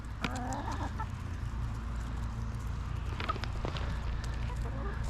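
Several crossbreed chickens cluck and murmur close by in a steady low chorus, with a few sharper calls rising above a constant background hum.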